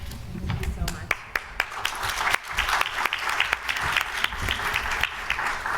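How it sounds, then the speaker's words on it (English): Audience applause at a conference session's close fills the room steadily, a dense wash of many hands with sharper individual claps standing out, while low murmuring voices sit beneath it. "There's never enough applaud."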